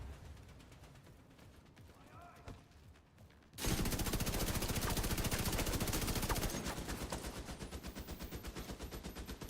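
Rapid automatic turret gunfire from The Division 2 erupts loud and sustained after a quieter stretch, a dense rattling burst that continues steadily, with faint talk underneath early on.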